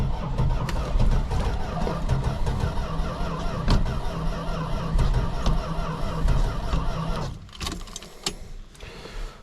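A 1974 Plymouth Gold Duster engine running steadily just after starting, a close, loud, continuous rumble that drops off sharply near the end.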